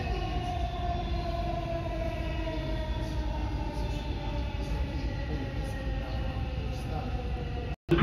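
A Dubai Metro train travels between stations, heard from inside as a continuous loud rumbling roar with a whining hum that holds steady throughout before briefly cutting out near the end.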